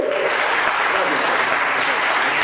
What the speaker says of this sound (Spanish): El aplauso para Francisco.